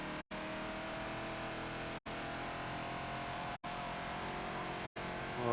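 A Ford Falcon XB engine in a Forza racing game revs hard and steady, with the roar cutting out briefly three times as the throttle is lifted and reapplied, loud and continuous throughout.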